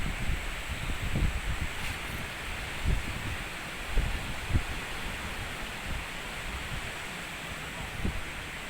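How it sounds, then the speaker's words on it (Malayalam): Wind blows steadily outdoors near a dam in misty Wayanad hills, a broad rushing hiss with soft low gusts and buffeting against the microphone. "ഡാമിൽ നിന്ന് ഇങ്ങോട്ട് പുറത്തേക്ക് നല്ല കാറ്റുണ്ട്"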